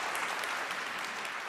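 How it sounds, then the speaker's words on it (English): Church congregation applauding, a dense, steady wash of clapping that holds at even loudness throughout the short stretch with no voices over it. "I hear that applause, all right."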